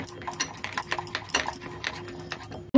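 Cornflour and gram flour batter being whisked in a bowl, a steady run of quick clinking, scraping strokes at close range, with light kitchen noise around it.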